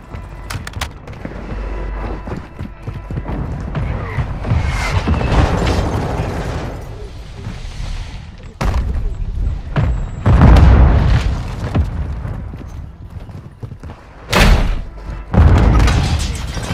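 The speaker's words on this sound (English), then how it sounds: "Hostile mortar strike near your position." Hostile mortar strikes in Warzone 2 on Vondel land as several heavy booms and thuds spread across the stretch, some close and loud and others more distant, with sharp gunfire-like cracks between them and no talking.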